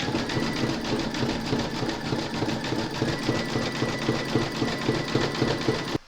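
An embroidery sewing machine stitches a satin stitch border in a continuous, rapid, rhythmic mechanical chatter, close and loud, running steadily before stopping abruptly at the end.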